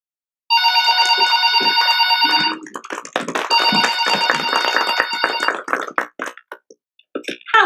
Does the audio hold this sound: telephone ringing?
yes